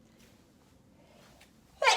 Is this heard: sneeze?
yes